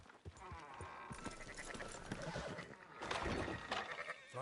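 Sheep bleating in Red Dead Redemption 2, several wavering cries close by over a busy farm-like ambience with hoof clatter and movement, sounding fairly loud through most of the stretch.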